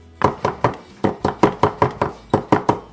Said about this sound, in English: So when you're chopping your parsley